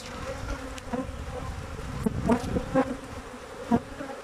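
Honeybees buzz steadily around an opened beehive during a hive inspection, a close, continuous drone with a few louder individual bees passing near now and then.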